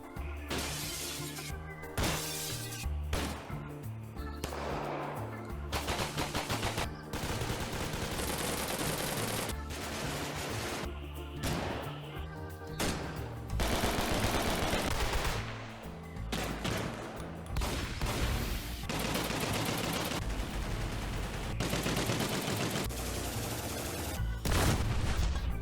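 Weapon fire from Gorebox: a loud, dense run of shots, bursts, booms and shattering impacts that keeps going with hardly a pause, in front of a busy background.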